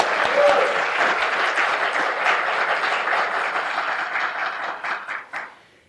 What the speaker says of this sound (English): I want to give a huge round of applause for that whole group.